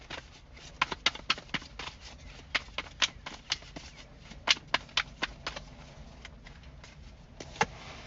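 Love Oracle tarot cards being shuffled by hand in quick bursts of crisp riffling snaps and slaps, a close, quiet series of sharp card clicks in a still room.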